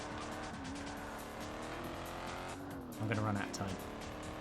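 A Ford Thunderbird race car engine revs hard in the Ford Racing 2 video game, with tire squeal briefly rising near the end. Someone talks over the continuous engine drone throughout.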